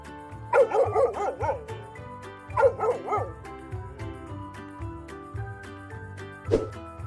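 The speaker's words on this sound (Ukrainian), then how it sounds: "Песик каже гав, гав." Two short bursts of yappy cartoon dog barking, then a single bark later, over light background music.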